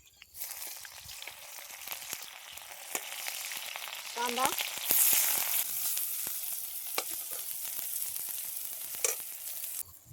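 Taakla leaf greens sauté in a pan with a steady sizzle and scattered crackles, a louder hiss swelling midway and a brief voice partway through.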